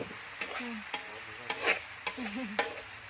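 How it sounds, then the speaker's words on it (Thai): Field rat stir-fried in oil until dry, with a spatula scraping the pan in regular strokes about every half second over a soft sizzle. "แล้วก็คั่วไปเรื่อยๆนะคะจนน้ำมันหอมมากอ่ะ"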